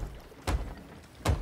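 A ship is repaired in the Sea of Thieves game. Two separate, dull wooden thunks land about three-quarters of a second apart, fairly close, over a quiet background with no talking.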